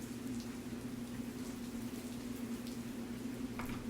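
Steady rain falls in an even, quiet patter, with a faint low hum underneath and no voices.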